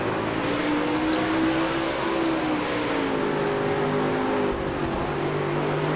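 Dirt track race cars run laps in a dirt racing series, producing a continuous loud engine roar with shifting, wavering pitch as several cars circle the track at steady speed.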